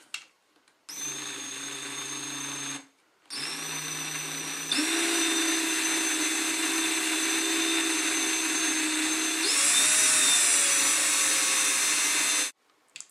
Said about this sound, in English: I have this at the lowest speed the drill will